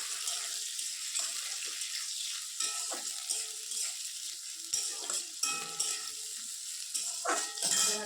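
Onion, green chili and chopped tomato frying in a pan, a bright, steady hiss of sizzling oil with occasional stirring scrapes and crackles, close and fairly soft.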